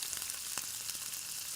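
Dried red chilies sizzle and fry steadily in a hot pan for a spicy Chinthamani chicken dish, a continuous broadband crackle with one brief louder pop, close and alone without talk.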